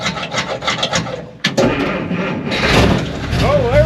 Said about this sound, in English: It's not cranking very fast.